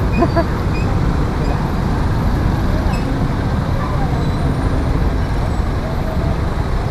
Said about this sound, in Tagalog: Sobrang traffic oh.